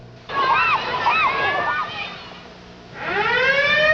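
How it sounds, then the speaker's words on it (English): A wailing civil defense siren rises and falls in sweeping tones, briefly dropping away before climbing again, loud and fairly close. "If this could never happen, then why are these sirens here?"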